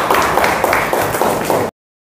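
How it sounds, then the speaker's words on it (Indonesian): Audience applause at an Indonesian teacher-certification exam session, dense hand clapping sustained for nearly two seconds before stopping abruptly into silence. "Oke, tepuk tangan dulu untuk Cindy."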